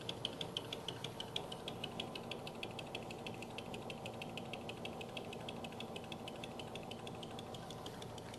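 On a lathe, a cutting tool touches the double-sided tape holding work to a faceplate, producing a quiet, fast and evenly spaced ticking over a low mechanical hum that lasts several seconds.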